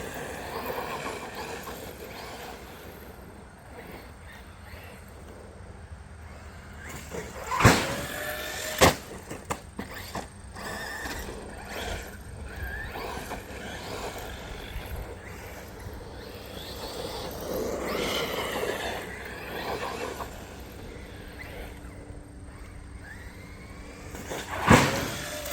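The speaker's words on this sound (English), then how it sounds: "This is my first time putting these tires on the dirt" An MJX Hyper Go 1/10 scale RC truck runs across dirt on new tires, its electric motor whining and rising in bursts with a few sharp clacks and thumps from bumps, moderately close and continuing for the whole stretch without talk.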